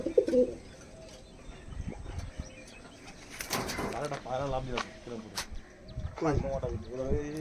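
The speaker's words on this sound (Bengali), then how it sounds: "তো বন্ধুরা এই সকল কবুতরগুলো আমি দেখালাম" Oman teddy pigeons in a loft give low, rolling coos in short bursts, close by, mixed with light rustling and a brief flutter, while a person talks over them.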